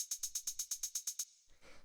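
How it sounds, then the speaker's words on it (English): Drum machine style hi-hat sample for Berlin techno, in the vein of an 808 or 606: ten crisp, evenly spaced closed hits in quick succession, then a softer, noisier open tail, alone and fairly quiet. "The next thing we have here is this hi-hat,"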